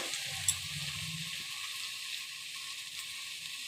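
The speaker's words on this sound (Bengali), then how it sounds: "দেখো আদা রসুনের পেস্টটা এর সঙ্গে ভালো করে মিশিয়ে দিলাম আর একটু কষাতে হবে" Ginger garlic paste fries in a pan, a steady soft sizzle running throughout with faint stirring and a small clink near the start.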